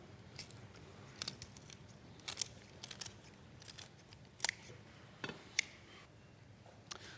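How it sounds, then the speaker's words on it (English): Kitchen scissors snip through raw chicken along the bone, giving a series of sharp, close crunching clicks at irregular intervals over quiet room tone in a kitchen. "it's nice and easy with the scissors because you can follow the line of bone"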